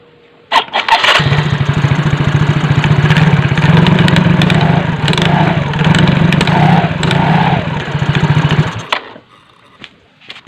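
An injected CVT automatic scooter engine with a rough, knocking running condition starts and runs loudly for about eight seconds with a coarse, uneven clatter, then cuts off into near silence.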